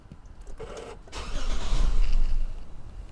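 A Toyota Crown's replacement starter motor cranks the engine after the start button is pressed with the brake held, a brief whir building into a louder rumbling surge that swells and then settles, with no talking.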